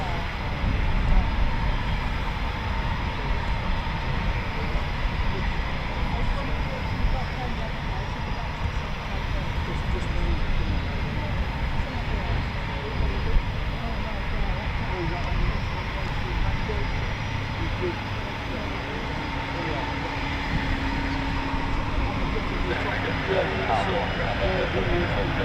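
An RAF Eurofighter Typhoon FGR4 jet on a quick-reaction scramble takes off. A sustained broadband jet roar holds steady throughout, with voices murmuring underneath.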